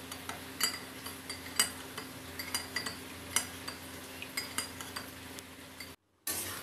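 A spoon stirs cornflour and water in a bowl, making repeated light metallic clinks against the side at a steady, uneven rhythm, close and fairly quiet, with no talking.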